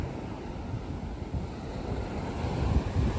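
Sea waves draw back quickly down a sloping beach at Tondavali near Malvan, a low, soft, continuous wash mixed with wind buffeting the microphone, with no voices.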